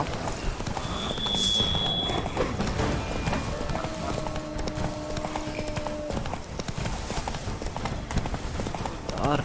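Roach, the horse in The Witcher 3, gallops with rapid rhythmic clip-clop hoofbeats, close and continuous, alongside a faint whinny and game tones, with brief speech underneath.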